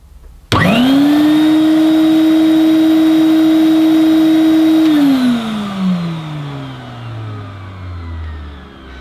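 A Hoover Futura 2000 commercial vacuum cleaner's front motor starts abruptly with a loud steady whine, holds for several seconds, then spins down with a falling pitch as it shuts off, close and alone.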